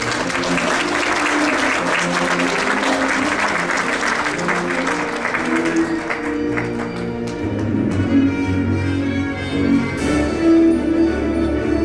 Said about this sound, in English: Give her an applause as she makes her way up here.